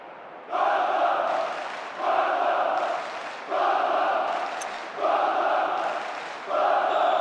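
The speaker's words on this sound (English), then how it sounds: "The crowd starting to get impatient now." Stadium crowd in the PES 2010 football video game during a Barcelona versus Fenerbahçe match, with loud chanting swells that rise and fall in five regular rhythmic bursts, each separated by a brief quieter dip.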